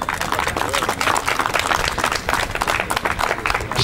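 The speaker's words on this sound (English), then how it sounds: "I want you to give her a clap tonight" Audience at a political constituency meeting claps for a mayor, an uneven, busy burst of hand clapping with crowd noise, close and fairly loud throughout.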